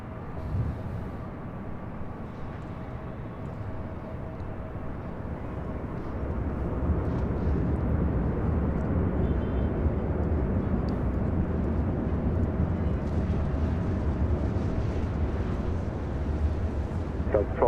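An airplane lands at LAX in an auto landing, a broad low jet roar that swells about a third of the way in and then holds steady and loud, with some wind noise on the microphone.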